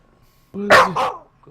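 Dusty, a pet dog, gives a close, loud two-part bark lasting under a second, tangled with a person's voice asking something.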